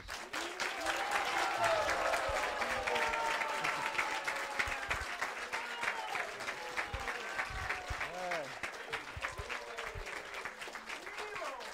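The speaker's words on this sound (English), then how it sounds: "Could we have a tremendously rousing round of applause for Srila Radhanath Swami tonight?" Sustained audience round of applause at an evening talk at a devotional center, a dense, steady wall of clapping with cheers and whoops rising above it, lasting throughout.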